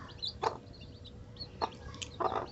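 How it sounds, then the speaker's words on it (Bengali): A broody mother hen guarding her chicks gives a few short clucks in three brief bursts, spaced about a second apart. Faint, with a low background hum and no talking. "এই যে আমার চিকিং মুরগি"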